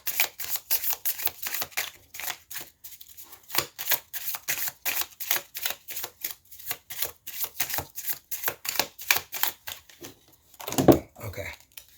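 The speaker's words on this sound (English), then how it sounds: "one more shuffle, and then we'll pull cards" A rapid run of crisp riffling bursts from cards being shuffled, repeating close to the listener, with a heavier rustle near the end.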